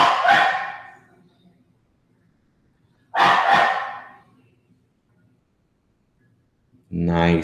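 A dog named Major barks twice, each a loud, close bark with a short tail, separated by about two seconds of near silence, followed by a brief burst at the end.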